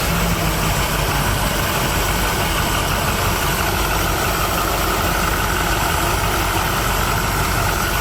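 A 1979 Chevy G20 custom van engine running steadily, a loud continuous close rumble on its first drive after 35 years, with no talk.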